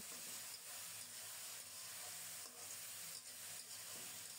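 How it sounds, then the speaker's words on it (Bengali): Dal frying in a pan with coconut browned in tempering spices, giving a soft, steady sizzle and hiss with faint stirring pulses, quiet and alone. "অল্প কিছুক্ষণ ডালটাকে ফ্রাই করে নেব।"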